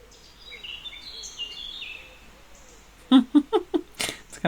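Birdsong played through wall speakers indoors: thin rising and falling chirps and whistles at first, then a quick run of five or six sharp, louder chirps near the end, with no talking.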